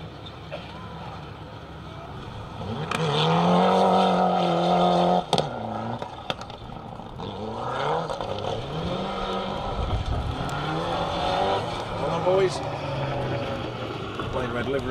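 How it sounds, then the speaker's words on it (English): A Mitsubishi Evo rally car runs a Welsh Championship rally stage, its engine note rising and falling as it accelerates and shifts, with a brief sharp pop midway, while a commentator talks over it throughout. "Naylor and Ian Lawrence in their Mitsubishi, another of the Evos that goes well."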